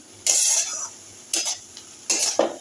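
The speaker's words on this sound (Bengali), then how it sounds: "এটাকে ভালো করে একটু নাড়িয়ে নেব ভালো করে একটু নাড়িয়ে নিচ্ছি" Chili flakes are stirred into butter garlic broccoli in a pan. Three distinct bursts of spoon scraping and sizzling sound close by, separated by short pauses.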